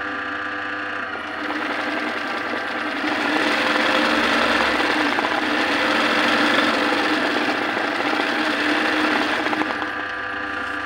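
An embroidery sewing machine runs steadily nearby, a continuous fast mechanical clatter and whir that holds for about ten seconds before winding down, with no voices over it.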